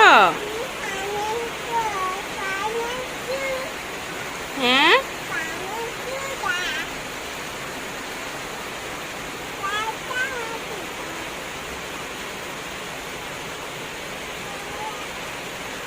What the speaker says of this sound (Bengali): এই তো মাগরিবের পরে এটা প্রচুর বৃষ্টি হইতেছে।